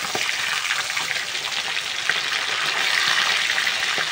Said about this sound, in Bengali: এবার দেখো মচমচে করে এই ইলিশি খয়রাটা কিন্তু ভাজা হয়ে যাচ্ছে